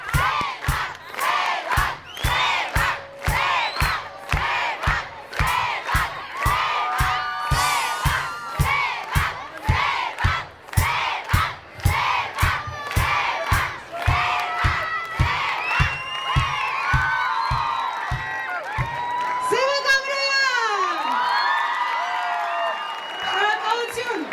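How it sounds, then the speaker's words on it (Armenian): A large crowd at the 69th anniversary celebration of Vayk claps loudly in rhythmic unison and shouts a chant together, then breaks into sustained cheering and whoops. "ես ուզում եմ մենք շատ բարձր ծափարենք"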